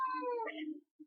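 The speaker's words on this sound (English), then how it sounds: "my cat's crying" A pet cat crying indoors: a drawn-out, falling meow fills most of the clip, close and fairly loud, followed by a brief faint sound after a short gap.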